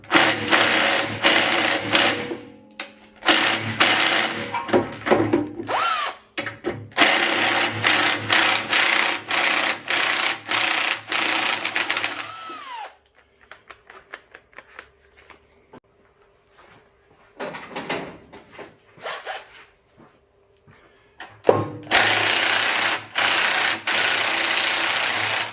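Bursts of loud, rapid mechanical buzzing, like a power driver or impact tool working on bolts on a lawn mower engine, come in long runs broken by quieter clicks and handling noises.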